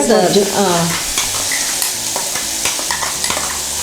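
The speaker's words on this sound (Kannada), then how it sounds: "ಮತ್ತೆ ಎಣ್ಣೆನಲ್ಲಿ ಅದನ್ನು ಫ್ರೈ ಮಾಡಬೇಕು" Curry leaves and other ingredients frying in hot oil for a South Indian curry-leaf rice dish, a dense crackling sizzle with a spoon stirring and scraping the pan, close and alone.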